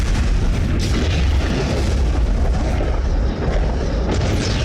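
A bomb dropped from a Dauntless dive bomber explodes on a ship, heard as a loud, continuous roaring rumble of blast and fire that fills the whole stretch without a clear break.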